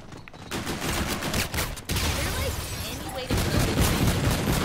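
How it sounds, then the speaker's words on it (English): Rapid, dense gunfire with heavy booms from an explosion in IW Zombies, continuous and loud throughout, with a sharp blast near the middle and a louder burst toward the end. "I'll throw a grenade."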